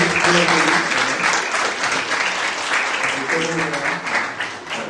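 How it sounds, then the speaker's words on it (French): A church congregation claps to welcome a family, a full dense applause that starts strong and gradually thins toward the end. "On peut les applaudir pour accueillir."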